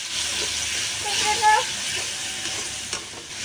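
Ground turmeric, red chili and cumin frying in a pan, a continuous hissing sizzle with light stirring scrapes and a brief faint tonal squeak partway through.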